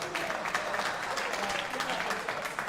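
Applause from a large live crowd at a darts finals night, a steady broad wash of clapping with speech over it throughout.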